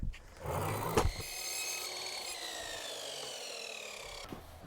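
A miter saw set to 45 degrees cuts through wooden trim during a corridor renovation, giving one sustained whining, rasping cut that starts abruptly, holds steady for several seconds, then trails off, close by with no talk.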